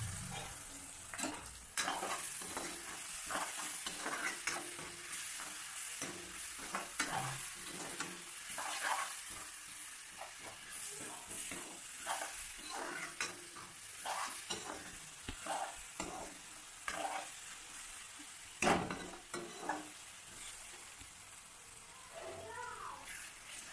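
Ginger garlic paste sizzling with browned onions in a pan, stirred continuously with frequent scrapes and clinks of the spoon against the pot over a constant frying hiss.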